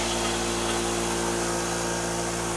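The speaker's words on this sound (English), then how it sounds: "it does make some noise, but that is considerably quieter than that like pancake compressor that I got in the garage already" A VEVOR 6.3-gallon quiet air compressor runs with a steady, dense motor drone and a constant hum, close and unbroken throughout with no voices.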